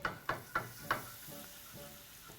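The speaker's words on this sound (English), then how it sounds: "So you can start whisking as we continue." A whisk stirs flour into melted butter for a roux, giving four quick, soft clinking strokes against the pan followed by a faint sizzle.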